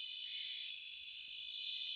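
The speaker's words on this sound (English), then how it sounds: "What you're listening to here is the Lesseuers Frogs" Lesueur's frogs calling while courting around water tanks at night: a continuous high, shrill trilling chorus, steady and fairly quiet, with no voices over it.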